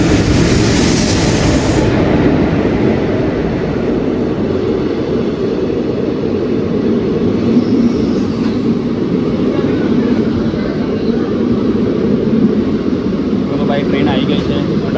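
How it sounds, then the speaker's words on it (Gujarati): Train pulling into a station on the Porbandar to Bandra line, heard as a steady loud rumble and hiss of rolling wagons with a brief high squeal at the start, continuing throughout the recording. "ટ્રેન આવી ગઈ છે."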